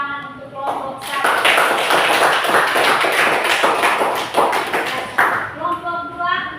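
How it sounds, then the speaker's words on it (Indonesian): A classroom applauds group 1: a few seconds of dense, lively clapping from many hands, framed by a speaking voice just before and after. "baik kita beri tepuk tangan untuk kelompok 1"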